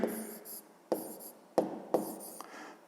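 A multiplication is written out by hand, heard as scratchy pen or chalk strokes in short bursts, set apart by sharp taps as each stroke starts, close and fairly loud with no speech.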